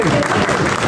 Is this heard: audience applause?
yes